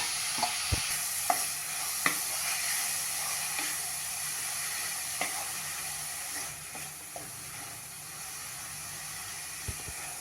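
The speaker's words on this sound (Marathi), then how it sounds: "सफरचंदाचा किस चांगला मऊ सॉफ्ट होईपर्यंत आपल्याला तो छान परतून घ्यायचा आहे" Grated apple sautés in a pan with a soft steady sizzle, punctuated by sharp spatula scrapes and taps every second or so, quiet and close.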